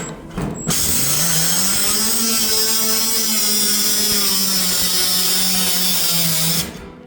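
A Milwaukee cordless cutter running on a 4.0 battery slices slowly through a metal pellet stove heating vent, giving a loud, steady whining grind that holds for about six seconds before stopping.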